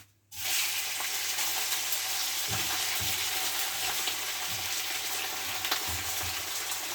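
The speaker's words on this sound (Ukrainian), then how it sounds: "Сковородочка наша вже прогріта, шкварчить димить" Pork belly sizzles in a hot, smoking frying pan: a dense, steady crackling hiss that starts abruptly, with occasional louder pops and spits throughout, close and fairly loud, no voices.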